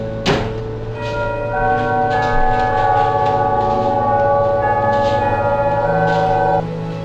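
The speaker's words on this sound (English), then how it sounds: "the doorbell rang" A doorbell chime rings out in sustained, overlapping bell-like tones that linger for several seconds before stopping abruptly, with no voices.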